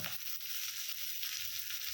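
Garlic and chili fry in hot oil for a chicken liver and gizzard dish, a steady, close, bright sizzle with a few soft crackles and no talking.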